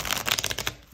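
A deck of tarot cards riffled in a quick, dense flutter of papery slaps, close and fairly loud, ending abruptly in quiet after under a second, with no voices.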